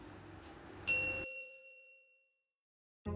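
A single bright notification bell ding rings out and decays slowly, following a short burst of background noise.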